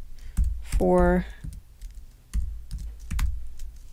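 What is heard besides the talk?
typing on a computer keyboard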